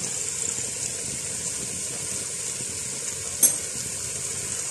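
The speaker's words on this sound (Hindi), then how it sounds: "ऑयल डालकर थोड़ा सा भूनने के बाद इसमें अब ये सारी चीनी डाल देंगे।" Grated carrots roasting in about a quarter cup of oil for gajar ka halwa after the milk has dried off, a steady close hiss of frying with soft stirring scrapes and one brief sharp click near the end.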